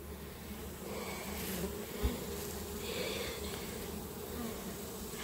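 Honey bees at a hive give a steady, dense buzzing drone throughout, an outdoor swarm hum with no talk.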